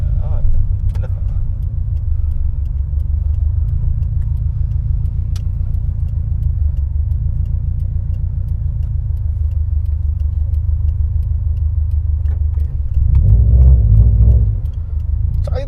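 A Subaru STI pulls away under light throttle with a low, steady engine rumble. Near the end the engine swells briefly, and cabin noises sound alongside it.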